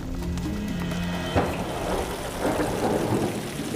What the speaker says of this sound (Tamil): எப்படி மழை பெஞ்சிட்டு இருக்கு? மழை நிற்கிற மாதிரியே தெரியலையே.